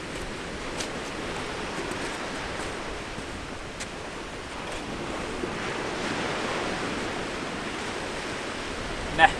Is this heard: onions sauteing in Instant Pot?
no